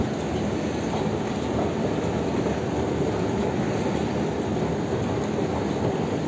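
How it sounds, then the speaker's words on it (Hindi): A metro train in Qatar rumbles steadily through a station, a continuous loud roar of wheels and rail noise filling the space with no voices heard. "तो बस ये सामने स्टेशन है मेट्रो का"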